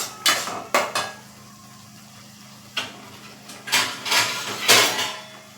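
A lid goes onto a pot of salted tomatoes cooking on the stove, with several sharp metallic clanks, some in quick pairs, separated by quiet stretches.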